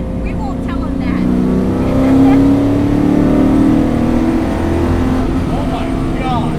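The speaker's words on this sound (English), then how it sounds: "Stacy, this car is so fast." A 650 hp 1969 Camaro track car with six-piston brakes accelerates hard on a track, its loud V8 roar heard from inside the cabin, swelling and holding steady with people talking over it.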